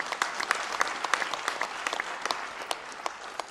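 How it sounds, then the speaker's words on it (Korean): Audience applause for five heads of economic organizations at a meeting with Lee Jae-myung, a dense, steady clapping that holds evenly throughout with scattered sharper claps and no voices. "5분의 경제단체장님께 다시 한번 큰 박수 부탁드립니다."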